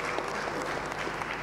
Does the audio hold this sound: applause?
yes